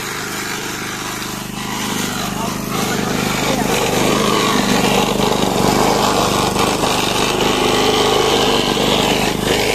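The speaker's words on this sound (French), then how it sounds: "c'est des vieilles tondeuses qui étaient dans la grange et qu'on a remis en route" Old lawn mower engines, long stored in a barn, run loudly and roughly nearby, a steady rattling drone that swells slightly, with voices talking over it.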